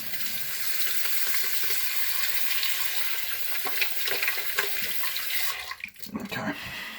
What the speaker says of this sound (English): I'm just going to wash my hands because they're loaded with balm